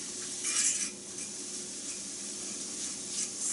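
Hot breakfast sausage sizzling in a pan as it is stirred, a soft, steady hiss with utensil scrapes against the pan and no one speaking.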